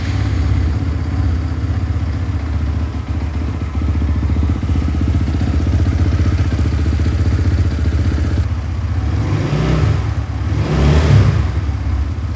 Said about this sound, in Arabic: ندور الموتوسيكل مع بعض ونشوف الصوت بتاعه